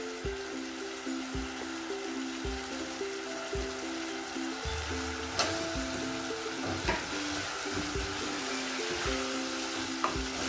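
Peas and cabbage fry in a pan with a soft, continuous sizzle, punctuated by faint rhythmic scrapes and clinks of stirring, fairly quiet and without talk.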